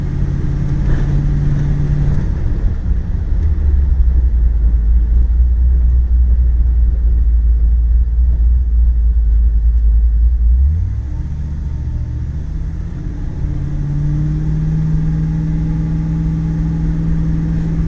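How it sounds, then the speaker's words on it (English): A 1976 Chevrolet Impala wagon engine hums and rumbles steadily at low pitch, then the tone shifts partway through as the car keeps rolling, with no voices. "the car's driving nice and straight"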